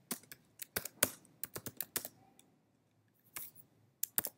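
Keystrokes on a computer keyboard during a coding exercise: a quick burst of sharp clicks, a short pause, then a few more taps, close and crisp in a quiet room.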